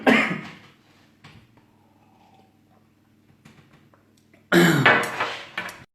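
Two short bursts of coughing, one at the start and a louder one near the end, with quiet stretches and faint clinks between.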